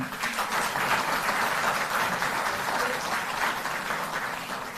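Steady applause from a crowd of employees at a Delhi Jal Board ceremony confirming 700 workers as permanent, a continuous even wash of clapping held throughout without voices.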